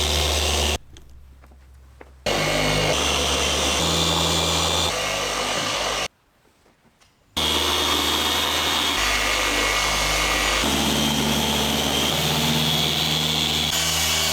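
A Rupes polisher working the paint of a Maserati Quattroporte, a loud, close, steady whirring drone that cuts out twice for a second or so before spinning back up.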